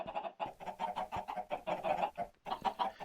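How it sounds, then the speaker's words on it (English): Chickens clucking on a Minecraft chicken farm, a steady run of close, choppy game-sound clucks with short gaps between bursts. "I have my own chicken farm over here."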